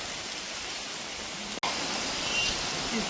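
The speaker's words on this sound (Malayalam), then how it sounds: "നല്ല മഴ പെയ്യുന്നുണ്ട്." Steady heavy rain hisses in a dense, even wash around a tribal home, with one sharp click-like break midway and no speech.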